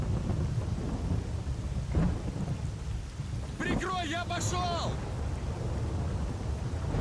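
Rain pours steadily beneath deep, rolling thunder in the video game S.T.A.L.K.E.R.: Call of Pripyat with the Misery mod, with a voice speaking briefly over the storm partway through.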